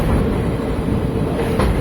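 A train rolls across a railway bridge over the Penna river beside a dam, a steady rumbling roar with faint rhythmic clatter, heard continuously from on board.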